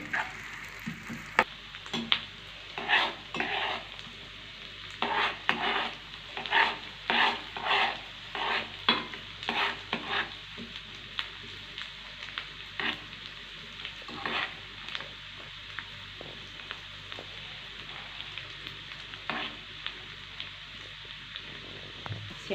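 Onions stirred and frying in a spoonful of country ghee in a home kitchen pan, a steady sizzle broken by repeated scraping stirs, close and fairly loud with no talking.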